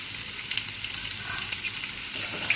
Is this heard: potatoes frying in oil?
yes